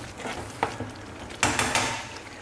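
Cream is stirred into kadai paneer curry in a kadai, with a few close, distinct scraping and clinking spoon strokes over a soft background sizzle.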